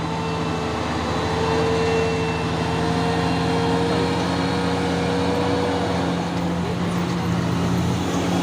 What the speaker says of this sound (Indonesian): Terpantau ramai lagi truk-truk yang mau menanjak ini